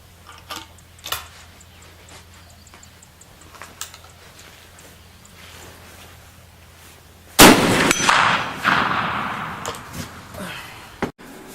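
A rifle bullet slams into an 8-inch steel target at 100 yards, giving one loud sharp clang that rings and decays over several seconds, after quiet faint ticking and background noise.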